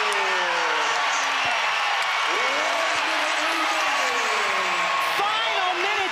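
Women's college basketball crowd at John Paul Jones Arena, Virginia Cavaliers against Virginia Tech, cheering and applauding as fans rise in the final minute; a broad, sustained roar fills the hall under an announcer's ongoing commentary.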